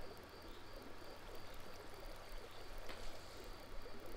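Flowing water in the video game Minecraft, a steady, soft broadband rush with a faint trickling texture, continuous and fairly quiet throughout, with no one talking.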